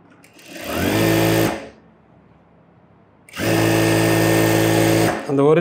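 A sewing machine stitches a sleeve in a tailoring class with two loud, steady whirring runs split by a quiet pause, then a brief stop and restart at the close.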